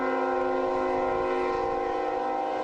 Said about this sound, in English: the train going by in the background, a familiar noise for them here